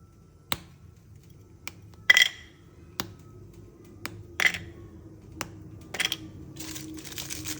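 Milky Bar chocolate bars are dropped into a bowl one after another, giving several sharp, sparse clinks and knocks close by against a quiet background.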